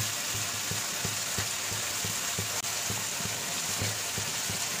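Spices for red potato dum, with turmeric and salt, are fried steadily in a pan, giving a dense continuous sizzle alongside a regular low rhythmic thudding, with no talking.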